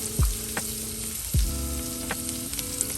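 Butter, garlic and crushed red pepper sizzle loudly in a pan, a steady frying hiss broken by a couple of sharp clattering knocks, likely a utensil against the pan.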